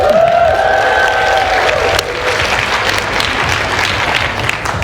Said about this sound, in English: Give Joey a cheer.